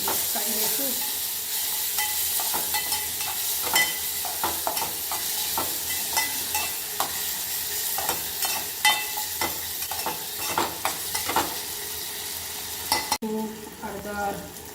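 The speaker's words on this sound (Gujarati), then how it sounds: "ટામેટા, બરાબર આપણે મિક્સ કરી દઈશું." Chopped tomatoes and green chillies are stirred in a hot pan, a steady sizzle broken by repeated scraping clicks of the spoon against the metal, close and continuous.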